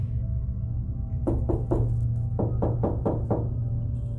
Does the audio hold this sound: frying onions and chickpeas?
no